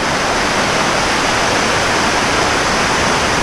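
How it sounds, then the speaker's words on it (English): Heavy, steady roar of a waterfall pouring down a gorge near Ithaca, New York, a dense continuous rush of water with no break, loud and close. "There's just so much water coming down this gorge"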